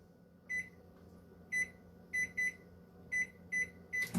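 A microwave oven hums steadily at 50% power while heating lemon curd, its high electronic beeps sounding in short repeated pairs and singles across the clip, clear and close.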